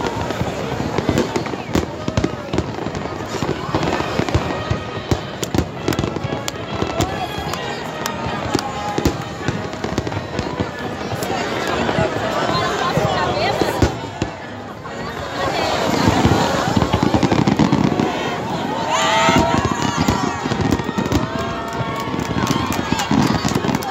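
New Year's Eve fireworks over Icaraí beach in Brazil, with dense, continuous bursts and crackling overlapping through a large crowd's cheering and chatter, loud and sustained throughout.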